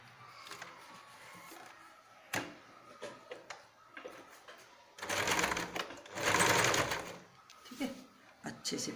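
Sewing machine stitching a carry bag in two loud whirring runs near the end, with quieter handling clicks and a voice talking earlier.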